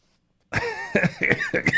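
Harsh coughing fit, a rapid series of raspy coughs and throat-clearing bursts close to the mic, starting abruptly after a brief silence.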